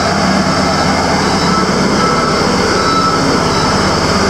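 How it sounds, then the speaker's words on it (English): Heavy Caterpillar machinery working on a road construction site in Kanifing, The Gambia, giving a loud, steady, continuous rumble and grinding roar that fills the whole scene without pause. "the machine doing the work over there is too noisy"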